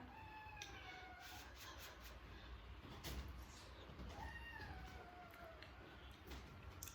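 A cat meows a few times, faint and somewhat distant, its rising and falling cries standing out over a low steady background in a kitchen where Shan-style rice porridge is cooking.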